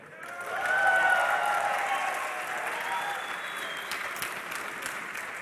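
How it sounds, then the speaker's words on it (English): An esports arena crowd at a League of Legends semi-final at Dreamhack bursts into applause and cheering that peaks quickly, then holds as a sustained roar with some shouts. "give us a cheer"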